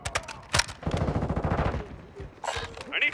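Gunfire from an enemy shooting off a rooftop in a video game: a loud burst at first, then a rapid rattle of repeated shots, with further sharp reports toward the end.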